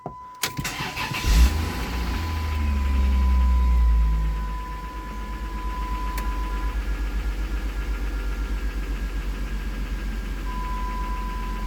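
A Chrysler 300M engine with its check engine light on cranks and catches, revs briefly, then settles into a steady, rhythmic idle close by.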